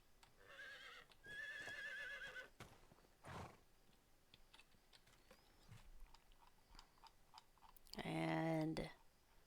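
A horse in the Medieval Dynasty video game whinnies twice, once near the start and again louder near the end, with soft hoof clip-clops and small game sounds in between, all fairly faint.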